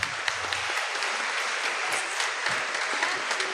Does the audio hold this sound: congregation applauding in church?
yes